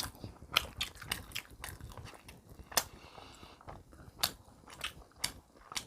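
Close, crisp crunching bites and chewing of air-fried convenience-store mini pizza, with irregular crackly bursts over a few seconds and no talk.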